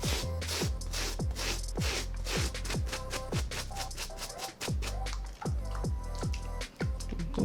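A wet brush scrubs a Nike Blazer Mid 77 sneaker in fast, rhythmic strokes, each a close, sharp scratchy swish, repeating steadily with brief pauses.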